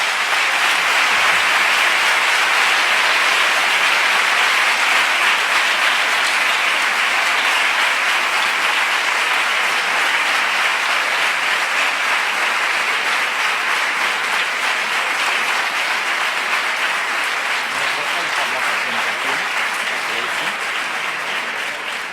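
A large audience at an education conference applauds steadily and loudly after a talk, a dense wash of clapping that holds throughout and only slightly fades near the end.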